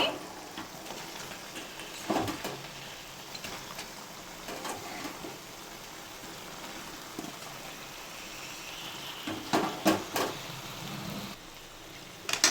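Marinated chicken for a dhaba-style chicken curry sizzles steadily in a hot pan over high heat, a continuous frying hiss broken by a few louder bursts of stirring and spattering, with no talk over it.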